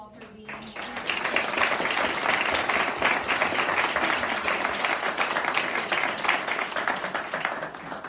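Sustained audience applause for a panel at a New York City professional development and networking event, dense steady clapping from a crowd rising after a brief quiet start and continuing strongly throughout.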